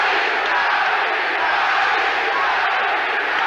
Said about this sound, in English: But the crowd have now been ignited.